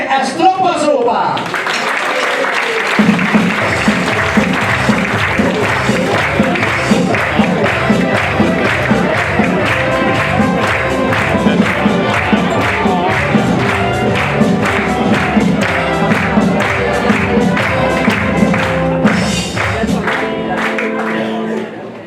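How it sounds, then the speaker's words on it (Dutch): A dense wash of audience applause fills a Dutch carnival revue hall in Houtum, steady and loud throughout with music or crowd noise underneath. "applaus voor Tjoe en Stroppas Opa"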